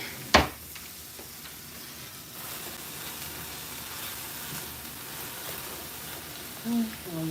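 Broccoli stir-frying in a pan hisses and sizzles steadily after a sharp clatter at the start, with faint stirring scrapes and a brief noise near the end.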